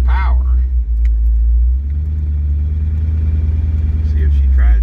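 An LS-swapped Chevrolet S10 idles steadily with a low, even rumble, cold engine running close and loud, with brief clinks at the start and end.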